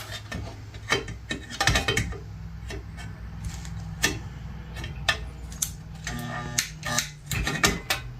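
A spot welder is used on a Nylint Pepsi toy truck being rebuilt into a car hauler, giving a series of sharp irregular snaps and clicks with a low electrical hum underneath, close and moderately loud.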